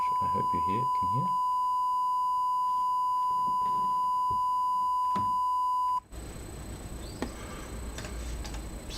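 A microcontroller generates a steady 1 kHz sine tone, a clean continuous beep lasting about six seconds over faint background clicks and speech-like murmurs, then cutting off abruptly into broadband noise.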